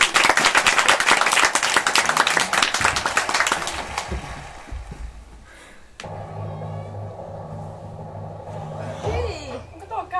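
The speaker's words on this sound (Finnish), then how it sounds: "Antikaa raikot aplodit taikurillemme Sinimusta Eleonoralle." A school theatre audience claps loudly and densely for the stage magician for about four seconds before the applause dies away, followed by low stage sounds and faint voices.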